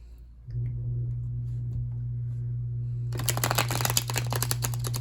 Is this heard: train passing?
no